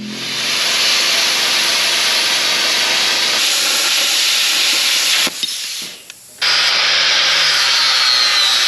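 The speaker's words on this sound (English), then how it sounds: "So that's what I'm going to cut out with the plasma cutter right now" A plasma cutter hisses loudly and steadily while cutting steel filler plates in a garage, pausing briefly near the end before the harsh airy rush starts again.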